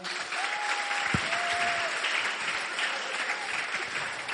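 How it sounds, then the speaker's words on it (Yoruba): An audience claps at a school's International Mother Language Day celebration at Messiah High School in Akure. The applause is dense, steady and sustained, a hall full of hands clapping together with no break. "Ìwọ tínú ẹ bá dùn pé o jẹ́ ọmọ Yorùbá fún rẹ ní àtẹ́wọ́."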